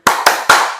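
Three sharp group claps from a seated class doing an ice-breaking clap game in a high school physical education lesson, evenly spaced and close, each ringing briefly.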